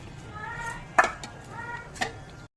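Fried chicken pieces drop into a pan of simmering chilli and soy sauce with two distinct clinks about a second apart, over a soft background hiss.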